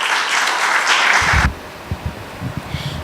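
An auditorium audience applauds for about a second and a half, then the clapping cuts off and soft footsteps and shuffling follow.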